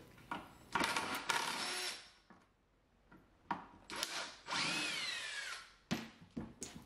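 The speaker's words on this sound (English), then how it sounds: "So I had to remove the four screws." A power drill backs screws out of a wooden shelf in several short whirring bursts, each rising and falling in pitch, with quiet gaps between them.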